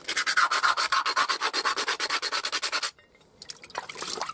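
Rust is rubbed by hand from a car part after electrolysis treatment, making a fast, rhythmic back-and-forth scratching close up. The steady strokes stop abruptly, followed by a few softer, scattered scrapes.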